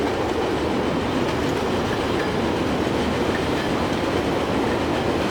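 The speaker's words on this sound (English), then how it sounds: "Because this train is accelerating a lot faster." An accelerating train in the Transport Fever 2 railway video game, giving a steady loud rumble of wheels on track with faint clickety-clack, continuous and close, with no talking.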